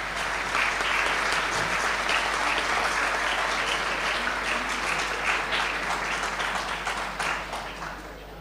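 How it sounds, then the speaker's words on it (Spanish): An audience applauds an architect after his introduction at a lecture: a steady, dense wash of clapping from a large room over a low hum, tapering off near the end. "un aplauso para Alejandro."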